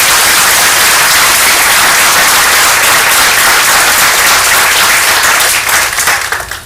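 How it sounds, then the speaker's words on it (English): Loud, sustained applause from an audience at a school board political forum, a dense wash of clapping that holds steady and then tapers off near the end. "Let's give them a round of applause."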